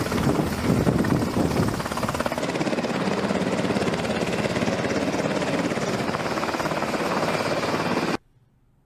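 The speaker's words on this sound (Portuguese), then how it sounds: "O helicóptero, para que você tenha uma ideia, mais usado nessas operações é sempre o Black Hawk." A Black Hawk helicopter flying, a loud continuous rotor chop and engine roar that fills the scene for about eight seconds before cutting out suddenly, with no voices over it.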